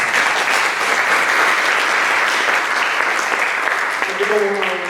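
An audience bursts into strong, sustained applause for a woman at a presentation event, a loud continuous wash of clapping that carries through, with a voice starting to speak over it near the end.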